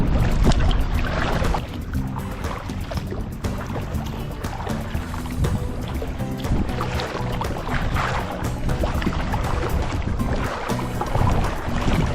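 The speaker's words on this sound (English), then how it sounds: "I'm gonna kayak around it." A kayak is paddled on open water near Phil Foster Park, with a steady, loud wash of water and wind noise continuing without a break and no voices.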